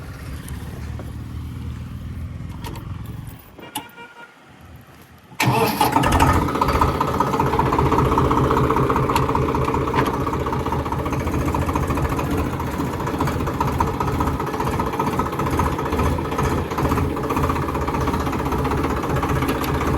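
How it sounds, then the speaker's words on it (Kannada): A Swaraj 735 FE tractor, a 35 HP diesel, rumbles at idle, drops nearly silent briefly, then roars up louder and keeps a steady, close, throbbing engine drone for the rest of the stretch. "ಹಾಗೆ ಈ ಟ್ರ್ಯಾಕ್ಟರ್ನ ಓಡಿಸಿ ನೋಡೋಣ."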